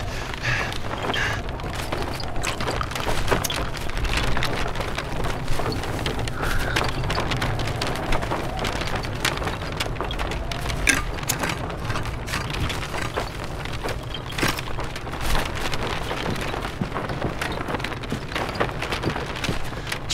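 Steady rain pours through a stormy night in the video game Beyond Two Souls, a continuous dense hiss with low rumbling beneath, loud and constant, faint talk mixed in.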